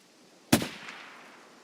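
A single sharp sniper rifle shot in a video game cracks out in the middle, followed by a short fading echo, with quiet surroundings before and after.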